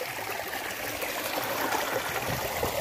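Water from a stream flows steadily over boulders and rock worn down by long erosion, a continuous close rushing and trickling wash with no voices.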